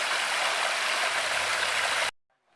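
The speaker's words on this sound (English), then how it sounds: "You can hear the water running through this small" Water spilling steadily through a small garden waterfall, a close and constant rushing wash that stops abruptly, leaving near silence.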